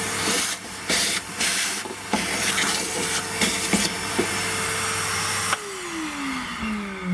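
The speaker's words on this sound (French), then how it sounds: "Un petit coup d'aspirateur." A steady whooshing vacuum cleaner suction hiss with a droning hum, used while changing a Toyota Yaris fuel filter, interrupted by a few short bursts and scrapes, then the motor pitch winds down near the end.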